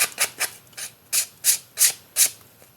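Rhythmic rasping strokes of a sandpaper block rubbed over paper card, about nine close, scratchy passes in a steady back-and-forth pattern.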